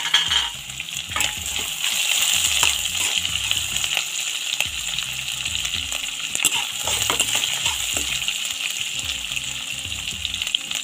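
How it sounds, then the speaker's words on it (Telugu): Curry leaves and green chillies fry in hot tempering oil for a vegetable chitrannam, giving a steady, loud sizzle and crackle with occasional stirring scrapes throughout. "తాలింపు మనకి కొద్దిగా ఫ్రై అయిన తర్వాత ఇక్కడ కరివేపాకు అయితే వేసుకుంటున్నా"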